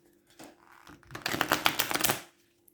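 A deck of R Black tarot cards being shuffled: a few soft taps, then about a second of rapid, crisp riffling flutter up close, ending with a quiet final tap.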